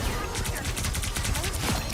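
Rapid repeated energy blasts from an arm cannon in the video game Marvel Rivals fire in a steady fast burst over the whole stretch, loud and close, with a player talking underneath.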